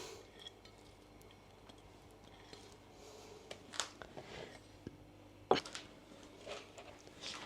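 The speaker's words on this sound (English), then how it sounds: "So I will mix some chopped onion." Chopped onion is stirred into a puffed-rice jhal muri snack in a bowl, giving faint, sparse clinks and scraping clicks against a quiet background, with a few sharper taps.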